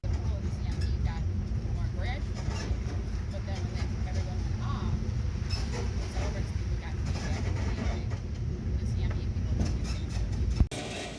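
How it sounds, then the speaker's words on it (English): Tram ride on Cayo Costa Island, a continuous low rolling rumble and rattle of the moving vehicle with scattered clunks, and voices chatting faintly in the background. "Tram ride to my campsite on Cayo Costa Island."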